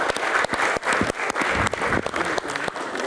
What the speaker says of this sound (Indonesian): tepuk tangan untuk Habib Jafar